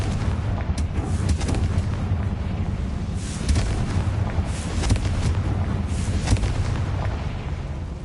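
Confringo blast spell explosions in the Hogwarts Legacy video game, a dense rumbling barrage of booms and bursts running steadily throughout, loud and close with no talk.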